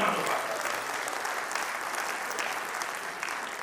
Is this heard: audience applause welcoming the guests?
yes